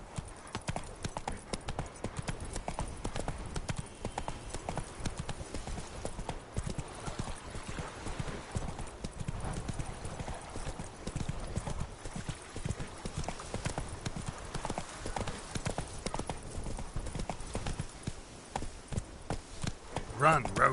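A horse gallops in The Witcher 3 video game on PS4 Pro, rapid rhythmic hoofbeats pounding continuously and loudly, with occasional snorts and game ambience underneath.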